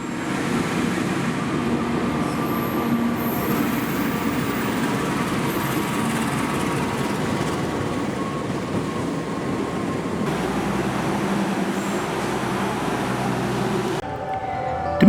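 The Wijaya Kusuma executive-premium economy train on Java, Indonesia, makes a steady, loud rumble of wheels and carriages that rolls on continuously without a break and without voices.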